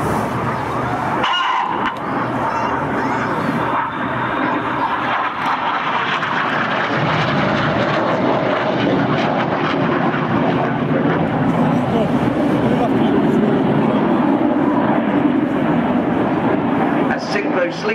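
Red Arrows jets roll out in an air display at Farnborough 2012, a loud sustained roar of jet engines that swells and rumbles steadily for eighteen seconds while a commentator talks over it.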